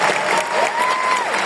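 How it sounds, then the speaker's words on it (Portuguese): Congregation in a church applauding, a dense, loud wash of clapping filling the hall, with a faint tone and murmur underneath. "Vamos aplaudir Jesus agora."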